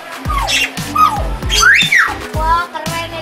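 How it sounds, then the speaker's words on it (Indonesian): Myna birds in a large domed aviary in Indonesia give loud, close squawks and whistling calls in quick bursts, repeated several times over a short stretch. "Ada burung beo."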